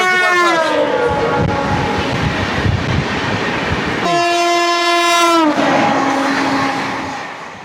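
The 18046 Charlapalli–Shalimar East Coast Express stands at platform 3 of Charlapalli station in Hyderabad and sounds two long, loud, close horn blasts over the rumble of the train.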